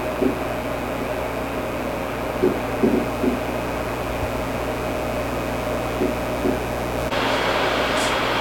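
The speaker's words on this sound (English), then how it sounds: "We'll keep commentary to a minimum here so you can listen to the actual fan noise." Cooling fans of a Lenovo Legion Slim 5 (AMD) 2024 gaming laptop with RTX 4070 give off a steady broadband whoosh, close and constant, with a few faint soft knocks and a brighter hiss rising near the end.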